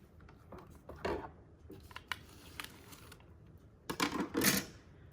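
Nearby, a die cutting machine feeds card through with a faint, steady grinding rumble broken by scattered clicks and a few louder crunching bursts toward the end.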